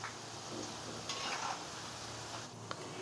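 Besan kathi sticks fry gently in oil over a low-to-medium flame, a faint, steady sizzle with occasional soft scrapes of stirring and light clinks of a utensil.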